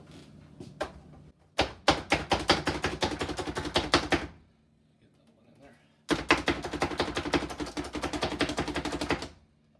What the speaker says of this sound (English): So we'll first start by chopping some onion.